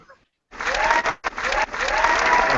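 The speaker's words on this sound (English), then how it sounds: "I'm clapping too." An audience at a live nerd-rap comedy show bursts into loud, sustained applause after a brief silence, with a short dip in the clapping before it continues full and close.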